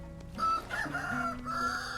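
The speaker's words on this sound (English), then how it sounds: "Cock-a-doodle-doo, little guy." A rooster in the survival video game Vintage Story crows once, a drawn-out cock-a-doodle-doo heard up close and fairly loud with no talk over it.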